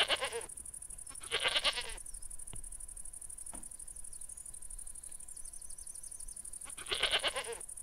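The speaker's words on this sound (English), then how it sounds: "Pet goat!" Goat bleats from the video game Goat Petting Simulator, three loud bursts that come early and again near the end, separated by quieter stretches of steady high insect-like chirring.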